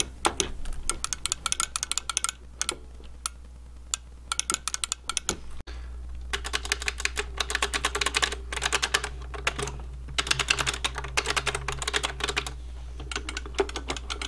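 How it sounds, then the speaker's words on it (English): Buttons on an Atari arcade fight stick are clicked in quick, close, sharp bursts, rapid and irregular, with a brief pause midway before a denser run of clicks. "we're gonna go ahead and click on these buttons really quick and see what they sound like"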